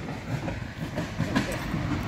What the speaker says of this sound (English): That's the Canadian Pacific Railway, the CPR.